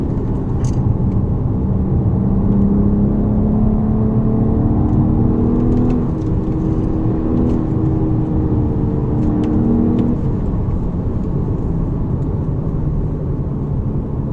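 A 2009 BMW 135i engine hums steadily from inside the car while driving, its tone rising in a smooth rev during acceleration before leveling off into a constant drone.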